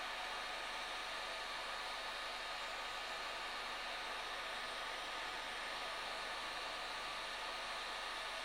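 A 1000 watt heat gun blows a steady, loud airy roar while heating boat graphics on a Westerly Centaur sailboat, unbroken and close for the whole stretch.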